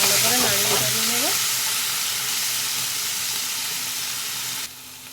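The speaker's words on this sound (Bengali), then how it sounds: "এবার দিয়ে দেব আমি এখানে পেঁয়াজ বাটা, কাঁচা লঙ্কা, ভালো করে নাড়িয়ে চাড়িয়ে নেব।" Onion paste and green chilli frying and being stirred in a pan for a paneer dish, a loud steady sizzle with brief scraping at the start, dropping off abruptly near the end.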